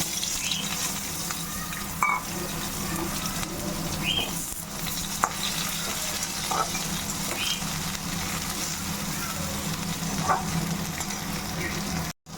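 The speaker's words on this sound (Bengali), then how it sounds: "এরপরে আমি এই বেগুনগুলোকে ভেজে নেব" Pieces of eggplant fry in hot oil in a pan, giving a steady, dense sizzle with occasional stirring clicks and spatters throughout, close up and without talking.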